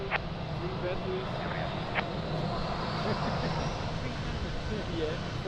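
An airliner takes off from runway 02 at Lisbon Airport: a broad continuous engine roar and rumble holds steady throughout, distant but constant, with a faint voice and radio chatter over it.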